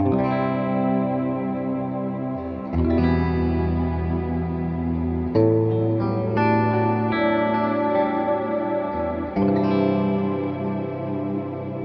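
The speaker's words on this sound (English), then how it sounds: "a very nice, big, lush sounding reverb" Sustained chords on a Jennings Navigator electric guitar through a Strymon Cloudburst reverb ring out with a big, lush reverb and shimmering effects, the chord changing every few seconds, with no voices.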